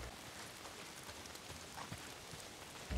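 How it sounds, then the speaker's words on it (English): Steady rain falls in the video game Days Gone, a constant soft hiss of drops spattering on surfaces with no pauses, faint and even throughout. "If it's not the freaks, it's the goddamn rain. Why is it always raining?"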